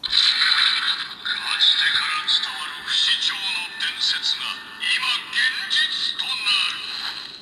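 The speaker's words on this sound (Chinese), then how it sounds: "刚刚那个开机音效呢，也是属于翻开书页的音效啊" Startup jingle of a Kamen Rider Saber Falchion driver toy, a page-turning effect: a bright, busy electronic burst of chimes and swishes, loud and close, running continuously for several seconds with no one talking.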